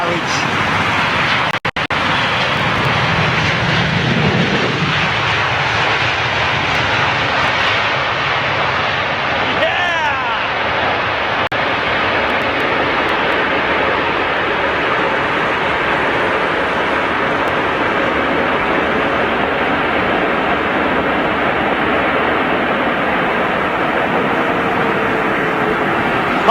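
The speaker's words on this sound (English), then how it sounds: "Boeing 787 Dreamliner, gonna get pelted in a minute" A Boeing 787 Dreamliner arrives at London Heathrow in stormy conditions, its jet engine roar a loud, steady broadband rumble that persists throughout, with wind buffeting and a voice talking over it at times.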